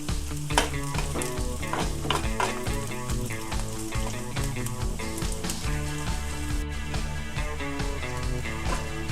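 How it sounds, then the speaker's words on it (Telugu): Onions fry in a pan with curry leaves, producing a continuous close sizzle broken by frequent scraping stirs, busy and loud throughout with no voice. "ఈ ఉల్లిగడ్డలు మొత్తం దూరగా వేగాలి."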